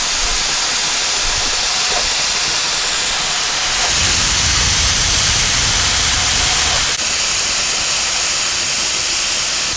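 Steam hissing loudly from a Presto pressure cooker, a continuous harsh hiss that swells stronger partway through and keeps up steadily, with no voices over it.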